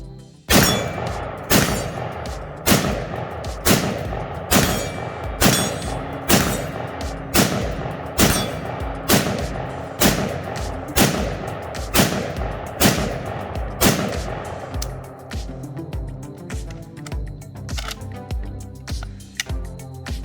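Cetme LC rifle firing at a range, a long run of loud, evenly spaced shots about one per second with sharp metallic cracks, tapering into quieter, scattered sounds toward the end.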